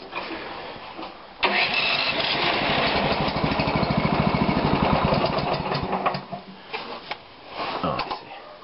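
A snow blower's small engine cranks and catches, running loud and close for several seconds before sputtering and dying out, followed by a few faint knocks and a brief revving attempt.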